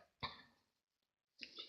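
Two short, muffled coughs from a person, one near the start and another after a second of silence, close and fairly quiet in a hot room.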